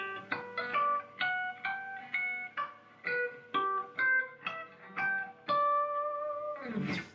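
Bell-like guitar harmonics ring out one after another in a slow, evenly picked melody for the intro of a song, each note chiming and decaying, ending in a brief rustle.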